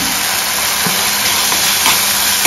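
Freshly made Malvani masala sautéing in a pan for a clam curry gives a steady, close hiss and sizzle that runs unbroken throughout, with faint clinks underneath and no talking.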